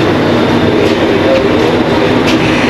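A small single-carriage train with green curtains runs steadily along the rails in Japan, a continuous loud rumble of wheels and carriage noise heard from inside throughout.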